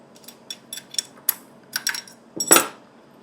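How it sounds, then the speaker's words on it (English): Metal wrench fitted over the blade retaining nut of an IQ TS252 52-inch rail saw, producing a scatter of small close clicks and taps ending in one louder metallic clack, no voices. "Using the wrench, place it over the retaining nut"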